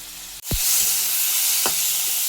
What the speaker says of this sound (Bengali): দিয়ে ভালো করে সবগুলোকে একসাথে কষিয়ে নেব